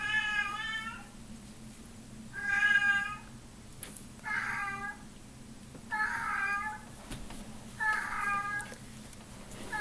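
A cat meows five times at a steady pace, each cry clear and close, over a low background hum.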